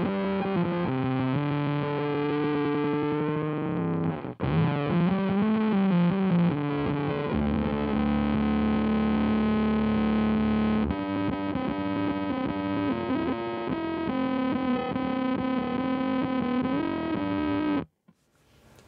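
Electric guitar with a metallic, clangorous ring-modulated tone playing sustained notes and chords, loud and continuous, cutting off abruptly near the end.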